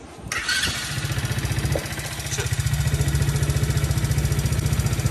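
A kid's bike engine starts after a carburetor replacement, catching quickly and settling into a steady, close, fairly loud idle with a rapid even putter and no talk.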